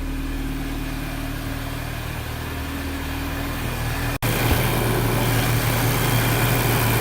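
An Audi TT Mk2 with a 2.0T engine runs steadily after a radiator and cooling fan replacement, a constant engine hum with the fans whirring, close and loud, the sound shifting slightly after a brief dropout midway.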